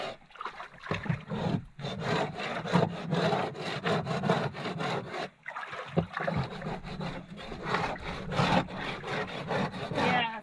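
An ice scraper works back and forth across a surface at a Nevada hot spring, its repeated rough scraping strokes coming up close in uneven bursts with brief pauses between them.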